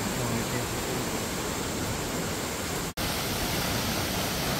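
Waterfall in the Veraguas mountains of Panama, a steady, loud, full-band rush of falling water that stays constant throughout, broken only by one brief dropout.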